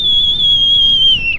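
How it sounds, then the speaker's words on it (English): A whistled melody from a band's recorded song plays in the background, one steady, bright sustained whistle tone drifting slightly downward for over a second, loud and alone. "They have that whistling song."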